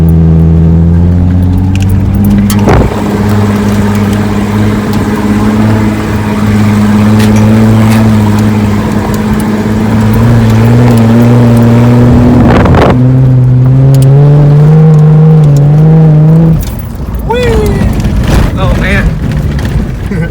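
A vehicle climbs a steep, bumpy mountain track, its engine droning loudly with a steady tone that shifts in pitch, punctuated by knocks and jolts, while people talk over it.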